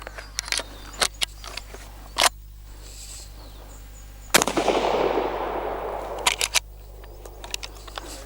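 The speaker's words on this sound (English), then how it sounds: "is I want to actually just shoot at it and just show you the patterning with this" An Adler A-110 lever action shotgun fires once at a paper target, a sharp loud blast with a long rolling decay, framed by several crisp mechanical clicks of the action being handled before and after.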